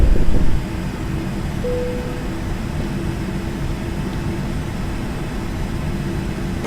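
A flight-simulator airplane climbs after takeoff with its engine drone steady and close, a louder burst at the start settling into a constant roar with a faint tonal whine.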